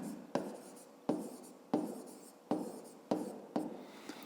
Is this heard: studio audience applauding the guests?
no